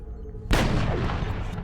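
A bomb drops and explodes in the XCOM: Long War game, a single sudden heavy blast after a low rumble, then a long rolling decay of debris and echo.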